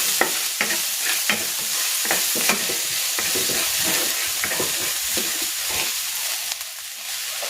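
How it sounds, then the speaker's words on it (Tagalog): Garlic and onion sauté in a hot pan while chicken fried rice is being made, giving a steady, close sizzle with scraping stirs and soft clinks throughout. No one speaks. "Igigisa ko na yung bawang. Ilalagay ko na rin itong sibuyas."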